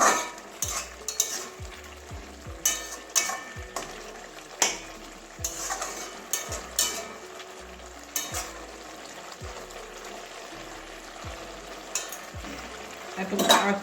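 Palak paneer with coriander leaves being stirred in a pan: repeated spatula scrapes and knocks against metal over a soft sizzle, irregular but frequent, close and moderately quiet, no talking.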